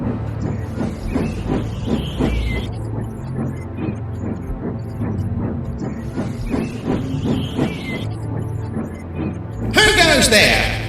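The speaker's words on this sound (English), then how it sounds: "It's not like we steam engines can be silent while moving." A steam engine moving, with a steady rhythmic chuffing and mechanical clanking rolling on throughout, then a sharp hissing burst of steam near the end.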